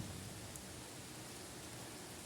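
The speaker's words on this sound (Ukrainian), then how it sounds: "давайте разом порадіємо літньому дощику" Steady summer rain falls as an even, dense hiss that never lets up, moderately loud and with no voices over it.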